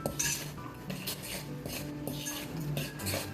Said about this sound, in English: you just want to mix this up really good